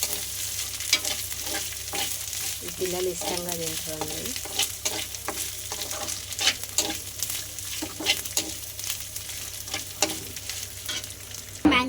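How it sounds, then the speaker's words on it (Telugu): Flattened rice (atukulu) mixture with onion fried in oil in a pan, sizzling steadily throughout with repeated stirring scrapes and clinks, close and fairly loud, with a short stretch of voice partway through. "మంచిగా గోలాలి నూనెలో"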